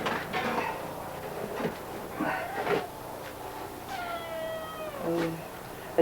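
A cat meows a few times near a hide tanner at work, with short drawn-out cries over background clatter and room noise.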